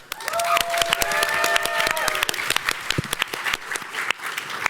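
A convention panel audience at PAX West 2022 bursts into sustained applause and clapping with some cheering, loud and dense throughout.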